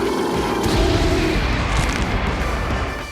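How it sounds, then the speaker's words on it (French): A huge smoky explosion ends a battle between giant LEGO Jurassic World robots, a dense, sustained booming rumble that fills the whole stretch at high level, with no talking over it. "Une énorme explosion de fumée, c'est fou."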